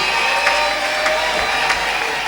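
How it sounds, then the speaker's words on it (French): Congregation applauding during a Friday miracle church service, steady dense clapping that fills the room, with a few louder claps standing out and no clear voices. "Acclamons pour Jésus-Christ."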